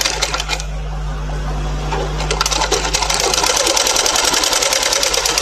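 A sewing machine runs steadily while stitching a baby cap, a loud, continuous rapid whirring with a low motor hum underneath, close by and without pauses.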